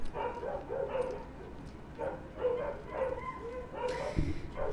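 Dogs downstairs in a house keep barking in repeated muffled bursts, distant and fairly quiet, with a brief knock and a hiss of noise near the end.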